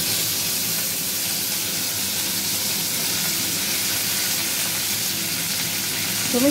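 Flat beans dropped into hot oil in a pan for a mixed vegetable dish, giving a loud, continuous sizzle and hiss that stays steady and close.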